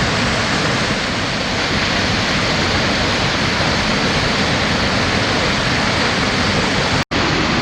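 Moxie Falls in northern Maine roars in spring, its 90-foot drop carrying heavy flow; a loud, steady, close wash of rushing water runs unbroken, with one brief cut near the end.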